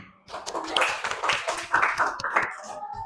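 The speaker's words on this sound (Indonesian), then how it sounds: "Oke, kasih tepuk tangan." A short round of clapping from a group in an Indonesian classroom, uneven and fairly close, with scattered voices mixed in as it tapers off.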